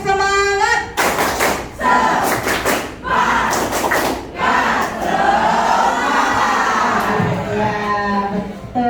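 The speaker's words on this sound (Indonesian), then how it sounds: "Coba kita akan ini tepuk semangat." A classroom of students performs a rhythmic clapping cheer, loud broadband claps in short bursts with group voices chanting and shouting along, plus a lone voice speaking at the start.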